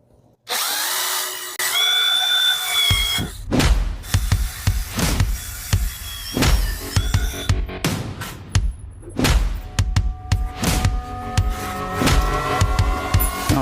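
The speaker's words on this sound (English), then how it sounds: "I'm gonna start drilling them." Power drill driving screws into a half wall for a tiki bar build, with repeated loud bursts of whirring and clunks starting and stopping, close by, with workshop clatter between runs.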